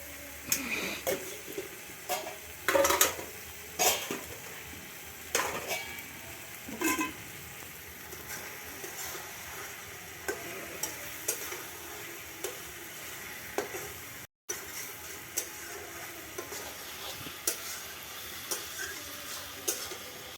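Pumpkin flowers frying in a pan make a soft, continuous sizzle, broken by scattered clicks and scraping stirs of a utensil that are louder in the first seconds, with no talk.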